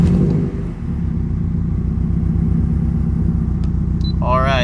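A Subaru STI engine, freshly topped up with oil, catches and settles into a steady, loud, close rumbling idle, with a brief voice near the end.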